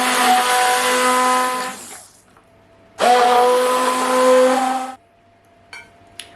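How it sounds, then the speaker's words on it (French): An immersion blender purees a broccoli gratin mixture in two loud, whining bursts of about two seconds each, separated by a short pause, with a faint clink near the end. "on va le mixer avec le mixeur plongeant"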